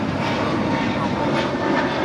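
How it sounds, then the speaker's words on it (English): A JetBlue Airbus A321neo jet departs Los Angeles International Airport, a continuous broad engine roar holding steady and fairly loud throughout. "That is JetBlue 1388 departing to Boston on an A321 Neo"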